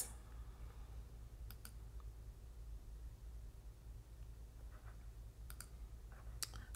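Computer mouse clicks while working in Cricut Design Space, a few sharp, faint clicks spaced irregularly over a quiet background hiss, no voices.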